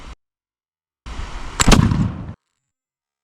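A single loud, booming musket shot fired with a powder-only charge and no projectile, a sharp blast with a short rumbling tail, standing alone between silent gaps.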